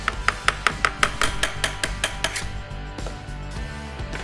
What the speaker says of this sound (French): et pour cela, j'utilise un petit marteau,